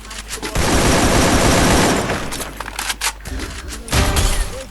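Rapid sniper and automatic gunfire from a mobile shooter game, loud bursts of shots and booms packed together, with brief pauses between volleys.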